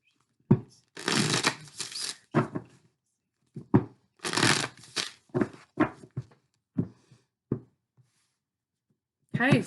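Several quick bursts of riffling and flicking as a Moonology oracle deck is shuffled up close, separated by brief pauses, with soft taps at the end.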